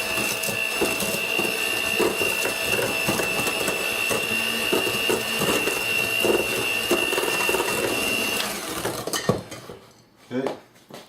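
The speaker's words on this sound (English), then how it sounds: "I'm going to quickly just kind of hand mix that together" Eggs and sugar hand-mixed for butter tarts in a bowl, a steady stream of scraping, clinking stirring that runs continuously for several seconds up close, then stops, followed by a couple of faint kitchen knocks.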